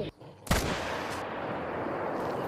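A single sharp, loud gunshot fired at an alligator in the hunting video game theHunter: Call of the Wild, Mississippi setting, booms once and then trails off into a long echoing rumble.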